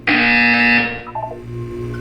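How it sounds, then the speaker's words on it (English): Loud electronic buzzer in the Portal 2 video game, a single harsh tonal blast lasting under a second, followed by fainter mechanical tones. "You will hear a buzzer."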